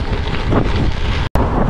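Strong wind buffets the microphone of a cyclist riding a gravel race, a loud, steady roar of rumbling gusts with a brief cut-out near the end.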